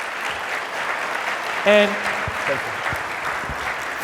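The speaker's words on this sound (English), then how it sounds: "let's give them a huge round of applause." Applause from an event audience for speakers on stage at a marketing talk, a steady wash of clapping throughout with a brief spoken word partway through.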